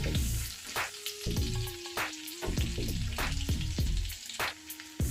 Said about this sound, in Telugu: ఇవి ఇప్పుడు కొంచెం వేగాయి కదా, వెల్లుల్లి కలర్ చేంజ్ అయినాయి